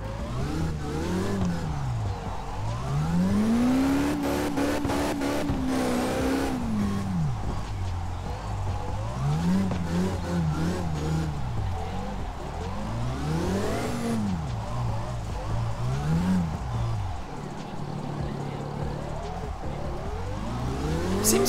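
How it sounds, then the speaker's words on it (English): A high-powered car drifts in fifth gear on a low-grip surface in a racing game, its engine revving up and down in long sweeping waves, with brief tire scrubbing between pulls, loud and steady throughout. "it's the first time in my life I drift in 5th gear"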